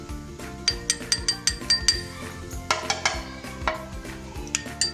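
Spices being stirred together for a chutney, a metal spoon clinking and scraping repeatedly against a bowl in an uneven rhythm, close and moderately loud with background music throughout.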